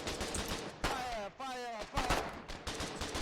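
Bursts of gunfire in the war game Foxhole crackle through a noisy battlefield mix, with rapid shots, a whistling tonal sweep in the middle, and people talking over the action.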